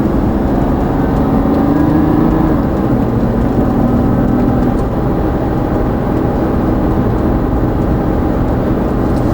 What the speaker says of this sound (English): we'll take the car for a run